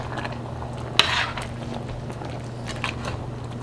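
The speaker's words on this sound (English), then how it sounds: "Let me stir it one more time." A spoon stirring black bean chicken chili in a pot, with a sharp clink against the side followed by soft scraping and bubbling sounds, heard up close with no talking.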